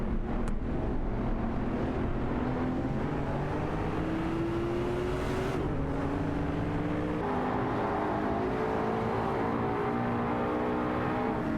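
Video game racing car engines, including a Porsche 996 GT3, whine and rise through the gears in overlapping layers. The sound is loud and constant, and the pitch sweeps upward several times as the cars accelerate together.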